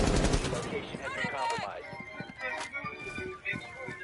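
Gunfire in Rainbow Six Siege on PS4, a heavy burst at the start followed by scattered sharp shots and in-game clatter, with a voice talking over it.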